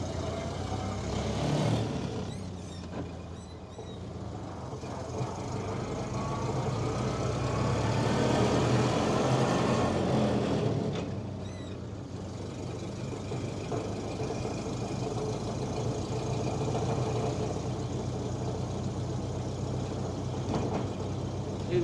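A 1928 Ford Model A Phaeton drives along a highway, its engine a steady low rumble with road noise that swells and eases over about twenty seconds, no talking.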